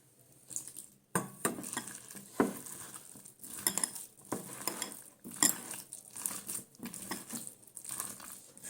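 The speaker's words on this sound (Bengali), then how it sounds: "সুন্দর করে ঠেসে টুসে মাখিয়ে নিতে হবে" Drumstick flower fritter batter with onion being kneaded and mixed by hand in a bowl, producing close squelching, patting and clinking bursts in an irregular rhythm, with no talking.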